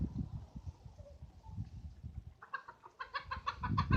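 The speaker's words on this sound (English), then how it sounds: "can catch some chickens" Backyard chickens clucking close by, soft low murmurs at first, then a quick run of louder repeated clucks toward the end.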